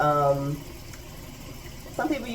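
Tap water runs steadily into a sink as produce is washed, a soft continuous rush with a voice speaking over it at the start and again near the end.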